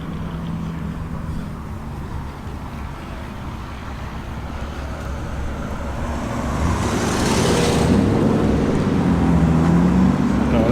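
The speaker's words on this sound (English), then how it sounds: "Maserati comes in." Maserati driving in at a car gathering, a steady engine rumble that grows louder and nearer toward the end, set against outdoor background noise.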